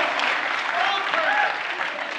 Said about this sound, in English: Old people are clapping too.